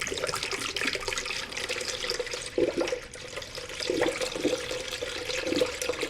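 Coolant is poured into a Subaru WRX STI EJ20/25 engine, a continuous liquid trickling and splashing sound at moderate level close by, with a few brief gurgling surges.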